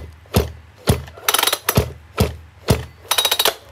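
A Shindaiwa 346 chainsaw engine pulled over by hand with the starter cord, about six loud, close, evenly spaced compression strokes, some with rattling clicks of the recoil mechanism.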